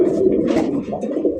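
A red pigeon coos nearby, a low throaty warbling coo that rolls on steadily and loud, with a brief rustle in the middle.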